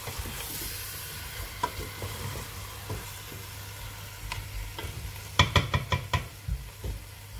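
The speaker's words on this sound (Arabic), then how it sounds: "ديروا طوماطيش حمراء، الحمراء اللي طايبه بيان ونخلطوا" Ingredients stirred in a pot of Oran-style harira soup as red tomatoes are added, a steady low simmer with soft scraping, then a quick run of sharp spoon clicks against the pot near the end.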